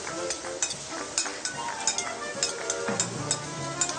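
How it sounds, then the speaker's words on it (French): Shallot, chili and fennel stirred in a pan, a light sizzle under repeated sharp clinks and scrapes of the utensil against the metal in an irregular rhythm. "Ensuite, on remue le tout."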